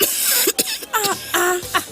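A short series of harsh coughs and throat-clearing bursts, close and loud, in quick uneven succession.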